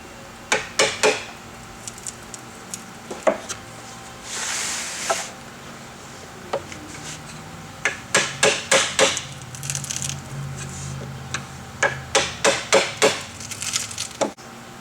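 A tool is tapped in and levered to pry off the grill of a Vandersteen Classic speaker, giving clusters of sharp wooden knocks and taps with a brief scraping creak in between.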